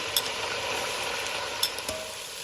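Food browning in a hot pan gives a steady close crackling sizzle, with a few sharp clicks scattered through it.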